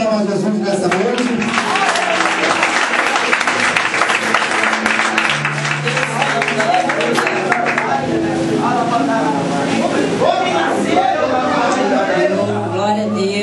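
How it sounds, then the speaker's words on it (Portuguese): A church congregation at a youth group festival applauds with dense, sustained clapping, mixed with cheering and chatter throughout and a voice speaking over the crowd toward the end. "Uma salva de palmas a Jesus nessa noite."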